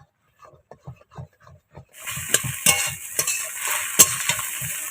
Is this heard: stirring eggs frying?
yes